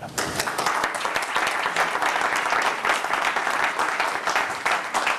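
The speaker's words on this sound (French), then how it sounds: "Son président, je vous demande de l'applaudir" Audience at a chamber of commerce event clapping for its president, a lively, sustained round of many hands with distinct sharp claps audible in the mix, strong and even for several seconds.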